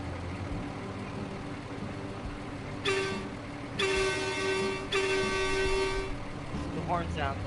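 A truck horn in the Roadcraft construction game on PS5 sounds in a few sustained honks, one short then two long blasts, over a steady engine drone.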